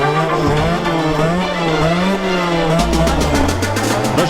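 A 140 CRZ dirt bike with a freshly tightened chain revs hard in first gear for a wheelie, a loud sustained engine note that climbs and then gives way to a deep low drone with rapid pulsing.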